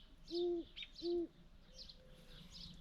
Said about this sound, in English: there's the 2 owls that are in the tree here close to me